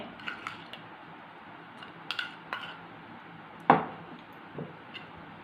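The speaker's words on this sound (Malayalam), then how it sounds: "നമുക്കതെല്ലാം കൂടെ ഒന്ന് മിക്സ് ചെയ്യാമേ മുട്ടയുടെ വെള്ളക്കകത്തോട്ടെ അരിപ്പൊടിയെ" A spoon or whisk mixing egg white and rice flour in a bowl for a coconut-milk face mask gives a few scattered, light clinks and scrapes against the bowl. One sharper knock stands out near the middle, with quiet room tone between.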